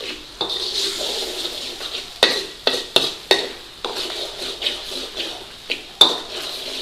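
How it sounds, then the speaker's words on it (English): Keema curry with watered-down tomato puree being stirred in a pan, giving a steady close sizzle punctuated by a regular series of sharp spoon scrapes and knocks against the pan. "We do need some fluid in here, so we want to get that in, give it a nice stir around."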